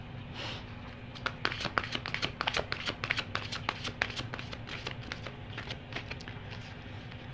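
A deck of fairy tarot cards is shuffled close up in a quiet room, giving rapid, soft riffling flicks and papery patters in a steady run for several seconds, with no speech.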